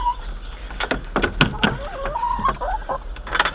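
A homestead chicken clucks in several short, bursty calls near a trap, with scattered thumps and rustling around it and faint background hum.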